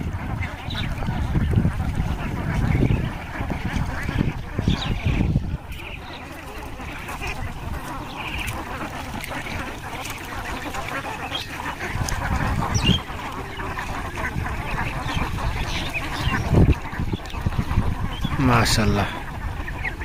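A flock of Khaki Campbell ducks on a duck farm in Muktagacha, Mymensingh, quacks continuously nearby while someone talks over the birds.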